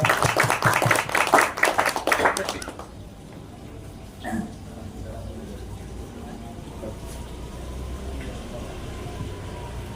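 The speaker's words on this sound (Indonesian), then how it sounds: "tepuk tangan untuk kita semua" Applause at a neighbourhood handover ceremony, a loud burst of hand clapping from a gathered crowd lasting under three seconds, then fading into quiet room noise with a brief thump later.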